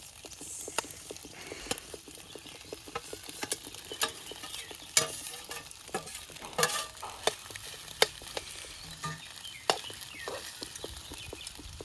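Rice stirred with egg in a pan over an outdoor wood-fired stove for egg fried rice, with soft sizzling under repeated scraping and clinking strokes of a spoon at an uneven rhythm, close and moderately quiet, with no voices.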